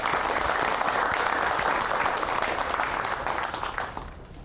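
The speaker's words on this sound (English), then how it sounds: "We give them a round of applause." A congregation at a televised Sunday Mass breaks into a round of applause, dense and steady for about four seconds before it starts to thin out at the end.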